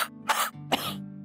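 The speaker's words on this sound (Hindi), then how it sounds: "हल्की सी खांसी है" A woman with a mild cough coughs twice, close and distinct, with a brief gap between the two bursts over a low background hum.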